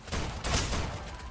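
Gunfire in the shooter game Snowbreak, a dense burst of loud, close rapid shots blending into a continuous crackling barrage, with no talking.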